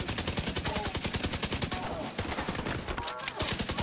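Rapid automatic gunfire in the video game The Division 2 rattles in fast, evenly spaced bursts, loud and close, running almost continuously with a couple of brief pauses.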